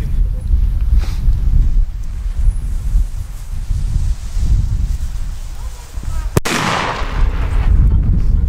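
A DumBum P1 firework banger goes off outdoors in daylight with one sharp, loud bang, heard after several seconds of rumbling wind noise and people talking.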